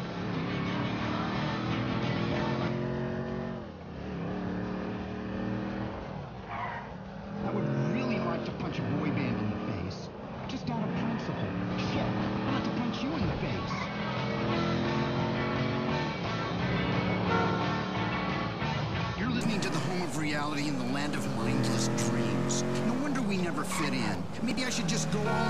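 A car in Grand Theft Auto V drives hard with a continuous revving engine drone rising and falling in pitch and tyre skids, loud and constant, while characters talk over it.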